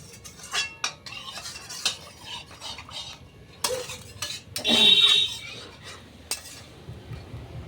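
A kadai wok being washed, with scattered metallic clinks and scraping of cookware in bursts over a low background, a louder clattering rush near the middle, no talk.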